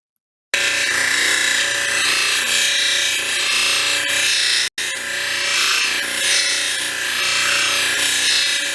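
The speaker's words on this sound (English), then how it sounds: "the 3000 grit wheel removes the 1200 grit scratches and gives a good pre-polish" A 3000 grit lapidary wheel pre-polishing a jasper or agate cabochon, with the stone held against the spinning wheel: a steady, loud, close grinding hiss and whir that runs continuously, broken by one brief gap partway through.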